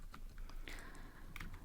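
Keystrokes on a computer keyboard during Java programming, a handful of soft, irregular clicks with a couple of sharper taps, heard close and alone with no talking.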